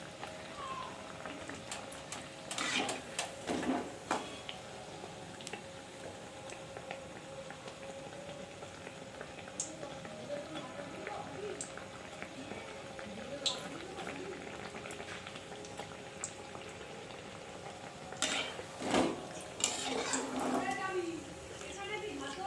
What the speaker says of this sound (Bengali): একদম লো ফ্লেমে গ্যাসটা লো করে তারপরে ভাজতে হবে